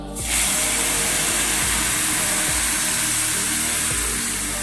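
A paste of raw tomato, coriander leaves, garlic, ginger, onion and green chillies hits a hot pan with a sudden loud sizzle, then a steady, close, dense hiss for several seconds.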